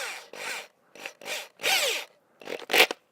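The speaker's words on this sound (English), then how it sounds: "Got one of these little hole saws." A 20mm hole saw cutting through a plastic container wall, sounding as a series of rough grinding bursts that start and stop several times, with short pauses between them and a harsher, brighter burst near the end.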